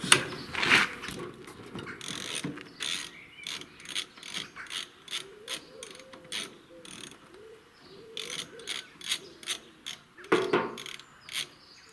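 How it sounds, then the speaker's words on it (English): Clicking and ratcheting metal sounds come from undoing two clamping bolts on a vintage Ferguson tractor jack with a spanner during a wheel change. The clicks are irregular and fairly close, with a few louder knocks in between. "to undo the two clamping bolts"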